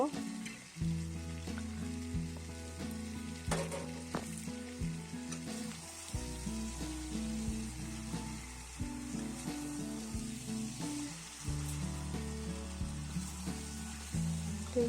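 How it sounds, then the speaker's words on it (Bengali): Pieces of elephant foot yam fry in a pan with a steady, close sizzle, broken by repeated scraping and stirring knocks at an irregular pace. "এবার দিয়ে দেবো আমি ওল ওলের টুকরোগুলো আমি দিয়ে ভালো করে কষিয়ে নেব"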